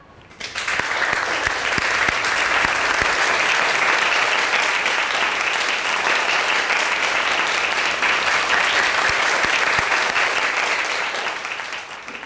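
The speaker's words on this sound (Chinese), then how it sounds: "让我们大家掌声欢迎他" A classroom of students applauds to welcome a new classmate, a steady dense burst of clapping that holds for about ten seconds before tapering off at the end, close and loud.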